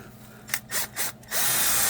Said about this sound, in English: just going to clean all the glue off these with your drill